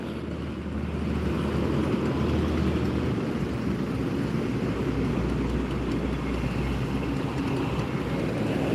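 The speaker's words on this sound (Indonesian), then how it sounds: "Iya, ada Vespa lewat." A Vespa scooter passes by on a roadside, its engine rising into a steady, fairly loud drone that holds through the rest of the passage amid general road noise.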